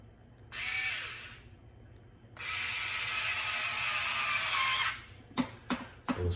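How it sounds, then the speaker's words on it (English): An electric screwdriver drives a screw while a rear suspension arm is fitted on a Senton 3s BLX: a short whirring burst, a longer steady buzzing run, then a few sharp clicks, close and clear. "So I went ahead and got my screwdriver, my electric."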